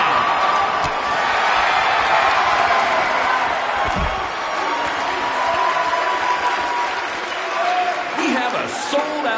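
Arena crowd in the WWE 2K19 wrestling game, a sold-out audience giving a continuous roar of cheering and applause, loud and dense throughout, with a thud partway through and a voice talking over the noise.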